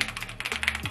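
Rapid typing on a modded RK100 mechanical keyboard, keystrokes clacking in a quick, steady stream of close, crisp hits, with no voices.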